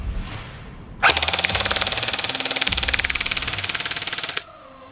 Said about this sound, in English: We're just going to put this on full auto and start blasting away on the mesh goggles.